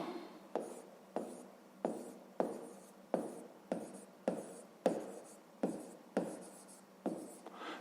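Chalk or pen taps and scratches out a steady run of about a dozen strokes while writing by hand during a fifth-grade math lesson, each stroke starting with a sharp attack and fading quickly, close and fairly quiet.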